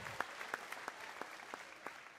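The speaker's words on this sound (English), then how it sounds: "Give yourselves a hand clap for being an excellent corporation." An audience of Wal-Mart senior executives claps at a corporate speech, a steady blur of applause at moderate distance with a few distinct louder claps standing out.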